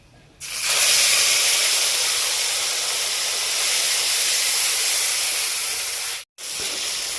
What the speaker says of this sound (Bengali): এবার তেলের মধ্যে দুটো তেজপাতা আর কালো জিরা ফোড়ন এর মধ্যে এই যে টমেটো আদা বেটে রেখেছি সেটা দিয়ে দেব